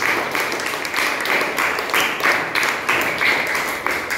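An audience claps loudly and steadily for a singer of Nazrul Sangeet, filling about four seconds with dense, even applause and no voices.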